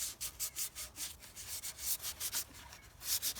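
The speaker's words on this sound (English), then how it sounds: "But this hand sanding with the 600 grit works really well." Wood is hand sanded with 600 grit silicon carbide sandpaper, a quick run of soft, rhythmic rubbing strokes, close and fairly faint.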